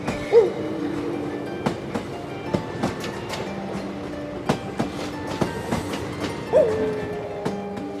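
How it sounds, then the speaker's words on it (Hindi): A train pulls out and rolls along, its steady rumble broken by repeated rhythmic clickety-clack wheel beats and a couple of brief horn-like tones, heard fairly close with no talking. "और ट्रेन वहां से निकलती है"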